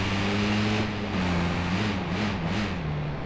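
A car's engine drones steadily in the Watch Dogs 2 video game, a low continuous hum with a slight rise and fall in pitch as it drives, close and fairly loud with no talk.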